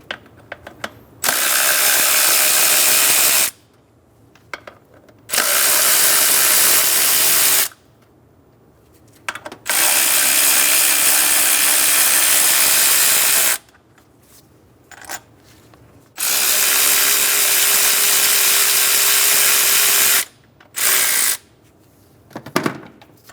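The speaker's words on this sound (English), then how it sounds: "Using a 12mm socket, we're going to remove the 2 nuts and 2 bolts for the throttle body." Close and loud, a ratchet with a 12mm socket removes the throttle body nuts and bolts on a 2003-2008 Honda Pilot, sounding in several long, continuous whirring runs separated by short quiet gaps.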